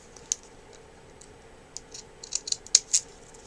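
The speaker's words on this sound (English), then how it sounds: "And this time I'm going to take fancy scissors" Decorative-edge craft scissors snip along card, a few faint crisp clicks early on, then a quicker run of sharper cuts near the end, close and quiet with no talk.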